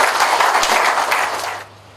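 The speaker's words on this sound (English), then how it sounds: "Please give her a round of applause." Audience applause at a customs service event, a steady dense wash of clapping that fades out near the end.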